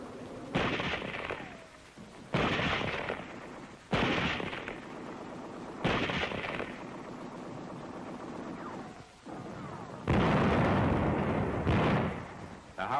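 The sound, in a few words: artillery shelling a house at point-blank range, wartime newsreel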